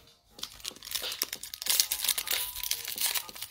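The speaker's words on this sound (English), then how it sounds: "And I'm here ripping packs." NBA basketball trading card packs are ripped open by hand, with close, crisp foil crinkling and tearing that grows busier and denser as the wrappers come apart.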